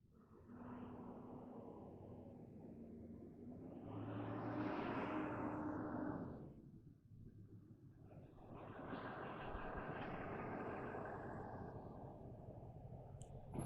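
A diesel truck passes outdoors on a very hot day, its rumbling engine swelling and fading twice as it goes by at moderate distance, with no talk.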